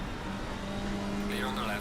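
In the racing game Assetto Corsa Competizione, a race car engine drones steadily at a distance, then a higher whine sweeps past near the end, with a voice talking underneath.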